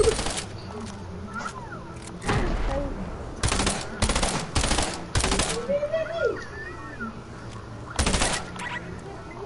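Rapid bursts of video game gunfire, loud and close, repeated in several short volleys with brief gaps between them, while a player's voice chatters over parts of the shooting.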